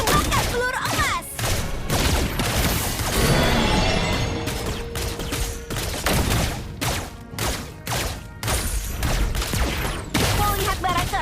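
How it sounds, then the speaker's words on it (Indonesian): Rapid bursts of golden bullets fired in the Mobile Legends game by the marksman hero Obsidia, loud dense volleys with crashes and thumps packed into a steady barrage, with brief gaps between bursts. "Tembakkan peluru emas."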